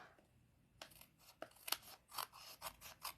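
Scissors trim designer series paper for a card, a run of close, crisp snips in quick succession, quiet and alone.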